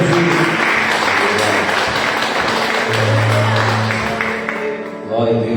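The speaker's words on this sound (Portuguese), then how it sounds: "as palmas são de vitória para Jesus" Church congregation applauding during a Sunday evening service, a sustained crowd of clapping mixed with voices and a low sustained tone, fading slightly near the end.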